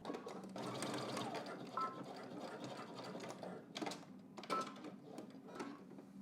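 A sewing machine stitches a jacket seam for a Simplicity 3168 pattern, running in a fast, continuous whir that pauses briefly a couple of times before restarting.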